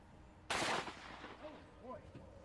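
A single sharp, loud gunshot fired over a chronograph toward a Kevlar target cracks out close by, then decays quickly into room echo, followed by brief quiet voices.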